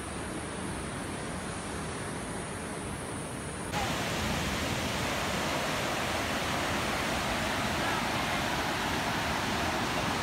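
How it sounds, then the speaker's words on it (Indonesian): Steady, loud rushing water from the Curug Hordeng waterfall fills the whole clip, growing fuller and brighter partway through, roaring nearby. "Suara air terjun udah kebenaran tuh guys."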